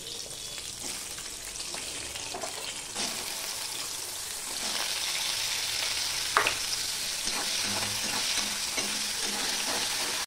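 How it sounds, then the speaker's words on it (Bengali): Carrots fry in oil in a wok with a steady, loud sizzle throughout. Occasional scraping stir strokes break through the sizzle, and no voices are heard. "এবার সবার প্রথমে আমি গাজরটাকে ভেজে নেব।"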